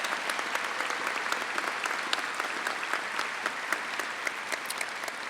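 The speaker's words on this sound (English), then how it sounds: "let's give all of our sponsors a tremendous round of applause" Sustained applause from a large audience at a live school honors show, dense steady clapping throughout with no voices over it.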